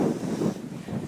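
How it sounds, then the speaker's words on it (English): Strong outdoor wind buffeting the microphone after a hurricane on Anna Maria Island, producing loud low rumbling gusts that swell and ease in waves, with no voices. "Yes, it is so windy, but it's a lot less windy than it was before."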